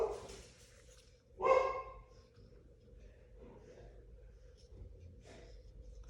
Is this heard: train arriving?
no